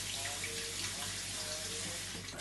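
Tap water runs steadily in a kitchen sink while food is rinsed beneath it, a continuous close hiss with a soft low hum in the room.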